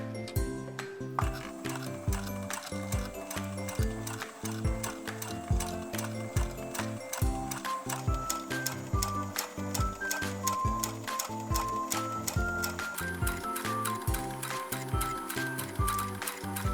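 A sewing machine sews a straight stitch with an edge joining foot, zero stitch width, three-millimetre stitch length and the needle set left, giving a steady, rapid mechanical clatter that runs close and loud throughout with no talk.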